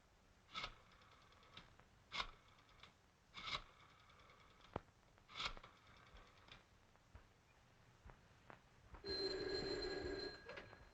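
Old-style telephone bell in a 1930s office, ringing in several short bursts with pauses between, quiet and slightly distant, followed by a steadier buzzing tone near the end.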